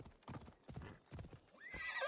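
A horse's hooves clip-clop in a few soft, quiet beats, followed by a brief high whinny.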